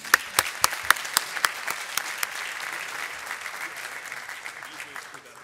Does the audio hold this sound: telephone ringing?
no